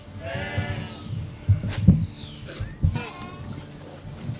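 Sheep bleat on an Ontario sheep farm, several wavering calls spread across the moment at moderate distance, with some low background rumble and brief thumps.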